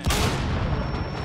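A wall blown up in a video game: a loud, sudden blast at the start, then a rumbling roar that stays dense and heavy for over a second with no talk.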